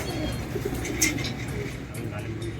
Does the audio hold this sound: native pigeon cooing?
yes